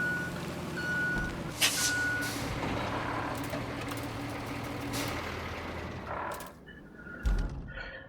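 A heavy truck reverses in the RoadCraft video game, its backup alarm beeping steadily over a low rumbling engine, with an air-brake hiss and a dull thunk near the end.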